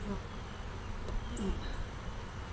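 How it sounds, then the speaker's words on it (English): Honey bees hum from an opened hive during an October inspection, a quiet steady drone of many insects close by with a few brief louder passes. "Yeah, we got a lot of bees."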